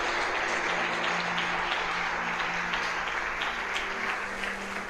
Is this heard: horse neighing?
no